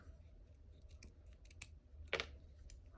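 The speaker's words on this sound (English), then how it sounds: "and then just take scissors, cut around" Scissors snipping around the edge of cork fabric on a small crocheted palm leaf earring, a single crisp cut standing out near the end over a soft, low background.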